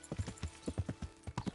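Horse hooves in the video game Kingdom Come: Deliverance, a quick uneven run of clip-clop strikes at close range, about a dozen hollow knocks in under two seconds, with no speech over them.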